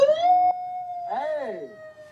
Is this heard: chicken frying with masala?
no